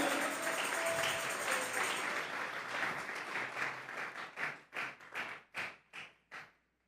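A church congregation claps as an offering of praise to God, sustained applause that thins out into a series of slower, distinct rhythmic claps before stopping, heard faint from a distance.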